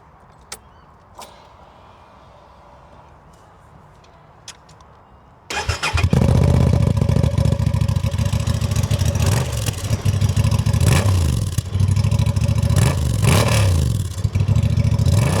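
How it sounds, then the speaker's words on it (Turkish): A Honda Transalp 750 motorcycle fires up after a few quiet clicks, then idles and revs loudly and close by, the engine note rising and falling repeatedly. "Gördüğünüz üzere Honda'nın sesi hakikaten oldukça tatlı."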